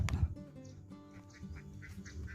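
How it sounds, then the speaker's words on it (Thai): A duck quacks loudly at the start, followed by softer honking and quacking calls from fowl nearby. "เป็ดกาบกาบ"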